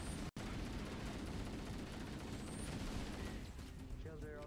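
Grenade blast in Halo CE, a broad loud roar of explosion and gunfire filling the clip, fading slightly toward the end as game voices come in over it.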